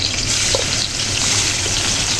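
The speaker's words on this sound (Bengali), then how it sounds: "এখন মাছটি ভেজে নিব।" Spice-coated gochi fish frying in hot oil, a loud, close, continuous sizzling hiss that holds steady without pause or speech.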